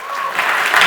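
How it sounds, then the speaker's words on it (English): An audience claps at a conference keynote, a brief dense burst of applause that swells quickly and holds steady, close and loud. "if we can give them a round of applause."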